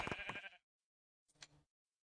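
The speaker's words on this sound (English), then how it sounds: "I think we've got enough sheep here for me to actually" Two short sheep bleats from Minecraft, the first louder and wavering, the second quieter after a pause, with silence between and after.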